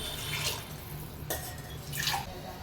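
Water splashes into a pot of moong dal in short bursts, a couple of pours with a brief sharp clink between them, close by and fairly quiet.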